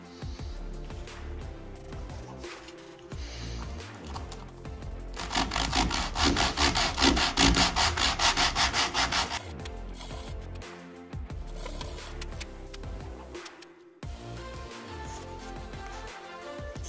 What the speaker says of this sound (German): Und dann muss man das Teil ein bisschen schleifen.